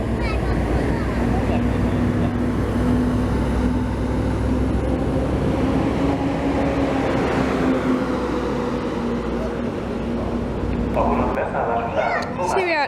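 A Hungarian train pulls into Balatonalmádi station, a loud steady rumble with a sustained tonal whine from the running gear, then a brief brake squeal near the end as it comes to a stop.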